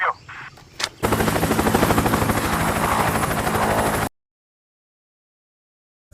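A helicopter arrives to pick up a Delta Force team leaving Brazil, a loud, continuous rotor chop and engine whine that starts abruptly after a brief quieter opening and cuts off sharply into silence.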